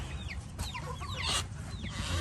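An Americana olive egger rooster makes repeated clucks and short calls at a farm, with other chicken calls and a steady low rumble of background noise.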